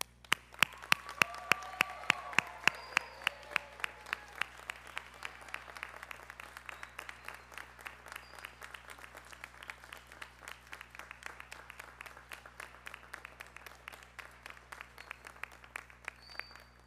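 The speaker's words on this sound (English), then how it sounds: "we're going to give you one big round of applause." Steady applause from a crowd at a graduation ceremony, many hands clapping continuously for the whole stretch, heard from a slight distance and fading slightly toward the end.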